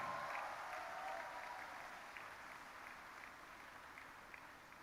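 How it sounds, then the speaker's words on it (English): A convention audience at an inauguration ceremony applauds, the clapping faint and distant and slowly fading away. "A big round of applause for all of us to have come out."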